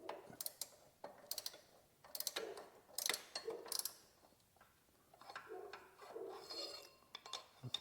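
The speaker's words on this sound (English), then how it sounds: "Get your 19 millimeter ratcheting wrench or wrench of some kind and put it on the nut" A 19 mm ratcheting wrench tightens a nut during power steering pump replacement on a Ford Escape, quick clicking ratchet bursts in repeated strokes, close and fairly faint, with no talking.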